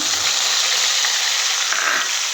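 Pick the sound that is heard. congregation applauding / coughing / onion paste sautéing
onion paste sautéing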